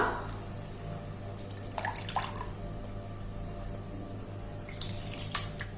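Water is poured into a cooking pot to boil quinoa in a home kitchen, a soft steady trickle running under faint background hum, with brief splashy bursts near the middle and end.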